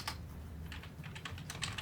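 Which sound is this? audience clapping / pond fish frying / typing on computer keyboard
typing on computer keyboard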